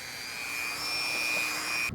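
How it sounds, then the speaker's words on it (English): A Dremel rotary tool spins a super-soft brush against metal, scrubbing off rust, masking tape residue and overspray paint on a budget dump truck cab, giving a steady close high whine with a faint tonal edge. "Just a super soft brush on this Dremel, so it shouldn't cause any deformities."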